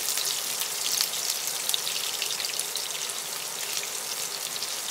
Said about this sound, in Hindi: ये सारा अभी अच्छी तरह रोस्ट हो जाए